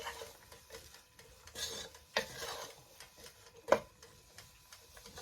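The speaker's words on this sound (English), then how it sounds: "Give this a stir." Beef patty filling with all-purpose seasoning being stirred in a pot, soft scraping and rubbing with a few light clinks of the spoon against the side, one sharper knock near the end, no talking.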